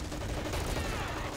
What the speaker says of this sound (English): My guys are shooting these guys with guns.